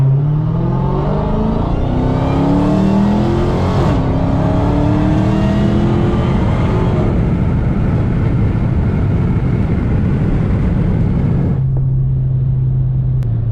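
A Dodge Charger Hellcat driving in 707 mode roars loudly from inside the car, its engine note climbing through rising gear pulls and then settling into a steady lower drone near the end.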